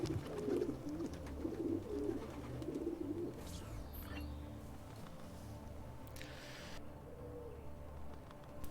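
Pigeons coo softly in a low, throaty rolling pattern inside a pigeon cage in Assassin's Creed 2, strongest in the first few seconds, over steady game ambience, with no speech.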